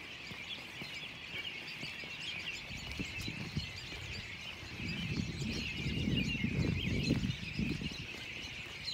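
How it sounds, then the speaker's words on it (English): Many birds chirp and twitter densely and continuously, a loud busy chorus over a low rumbling background that swells in the second half. "it just seemed like the birds are really loud"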